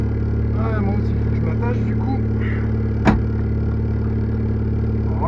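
Peugeot 206 1.4i running with a free-flow exhaust, a steady low engine drone throughout beneath voices in the cabin, with one brief sharp knock near the middle.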